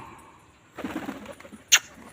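A nesting pigeon coos softly in a short, low burst close by, then gives a brief sharper call, with the rest of the moment quiet.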